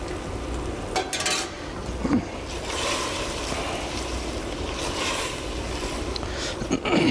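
Stock poured into a pan of saffron risotto Milanese and stirred, giving a steady wet hiss and swishing with a few spoon scrapes and knocks, close and continuous with no talk.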